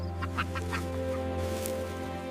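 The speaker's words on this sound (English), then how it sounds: "Cluck, cluck, cluck." A chicken clucks in a short series of soft, rhythmic calls over a steady low hum.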